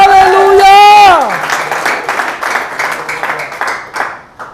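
A church congregation bursts into applause and cheering right after a held sung or shouted note, the broadband clapping staying loud and dense for several seconds with voices mixed in.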